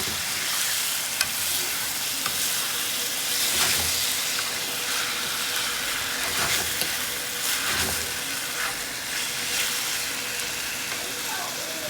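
Chicken for coconut curry fries in a pan with a steady, loud hiss and crackle, broken by occasional scrapes of stirring, continuing evenly throughout.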